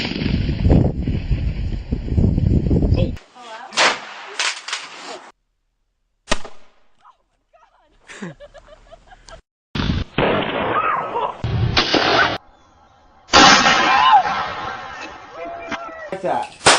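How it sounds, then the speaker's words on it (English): Double-barrel shotgun fired outdoors off a balcony, with several loud, sharp bangs separated by pauses, wind buffeting the microphone and voices between the shots. "put that double-barrel shotgun and fire 2 blasts"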